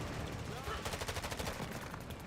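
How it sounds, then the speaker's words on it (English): Rapid bursts of explosive fire rattle through a Call of Duty DMZ match, a mortar strike landing as a dense, rhythmic string of blasts at moderate distance amid game noise. "Hostile mortar strike in the area."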